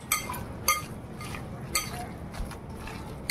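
Cornflour being mixed into fish finger mixture in a bowl, a spoon clinking against the bowl in irregular light taps over a soft background hum.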